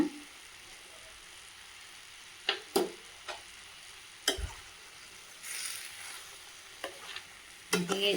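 Spatula scrapes and taps against a pan while pumpkin stir-fry cooks with a faint sizzle, a few sharp strokes spaced irregularly over quiet frying.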